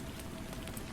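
Steady rain falls on the ground, a soft, even hiss of raindrops with faint scattered patters, heard alone and fairly quiet throughout.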